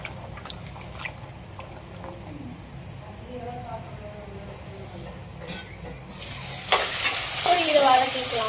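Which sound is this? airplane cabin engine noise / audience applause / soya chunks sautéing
soya chunks sautéing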